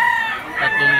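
Young roosters (stags) crow at a chicken auction market in Lipa, a loud, close, drawn-out cock-a-doodle-doo with clucking mixed in around it.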